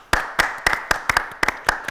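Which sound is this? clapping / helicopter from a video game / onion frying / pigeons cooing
clapping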